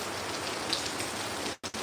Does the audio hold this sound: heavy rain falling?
yes